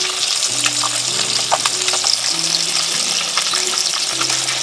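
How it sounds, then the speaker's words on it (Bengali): Fish frying in a pan at home sizzles and crackles steadily and up close, a continuous spitting hiss with no voices over it. "চলো মাছটা ভেজে নিই"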